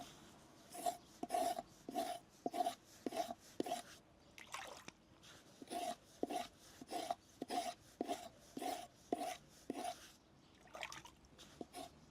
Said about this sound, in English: So what you do is scrape off the outer part like that on both sides.